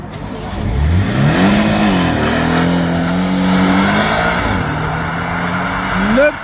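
Sports car using launch control at a supercar meet: a loud, close engine surges from idle into hard revving acceleration, pitch climbing through several gear-like steps, with crowd voices beneath.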